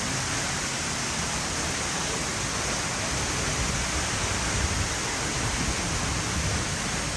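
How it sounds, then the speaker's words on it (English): A 177-foot waterfall at Silver Falls State Park in Oregon roars in a steady, dense wash of falling water, loud and unbroken, with no voices over it. "And oh yes, 177-foot waterfall."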